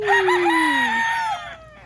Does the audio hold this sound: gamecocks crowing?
yes